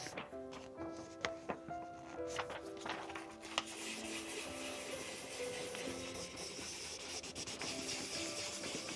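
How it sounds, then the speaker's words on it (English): A transfer is burnished down through a carrier sheet onto a hat box, a close, steady dry rubbing and scraping that continues in repeated strokes, with faint background music. "Burnish it down."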